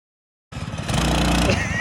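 A Streaker Dirt Dog go-kart engine starts up abruptly after silence and runs with a steady, buzzing small-engine drone, close by and fairly loud, with some rising revs.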